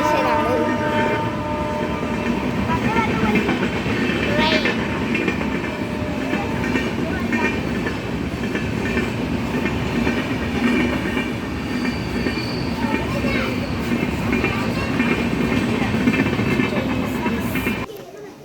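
A train passing through a railway station makes a loud, continuous rumble of wheels and carriages with faint squeals and clatter, holding steady for the full length before cutting off abruptly.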